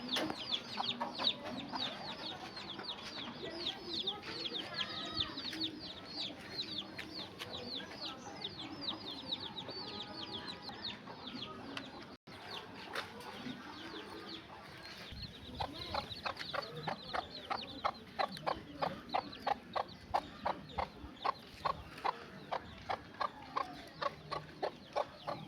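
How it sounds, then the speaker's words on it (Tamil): Village hens clucking beside their chicks, with rapid repeated clucks and soft chick peeps close by. A steady run of evenly spaced clucks comes in the second half, and a faint voice is heard in the background. "கோழி பார்த்தீங்கன்னா அழகாக குஞ்சு வச்சுட்டு நிற்கிதுங்க"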